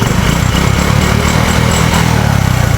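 A small motorcycle engine runs steadily up close after a spark plug fix, a loud even putter at idle with no voices.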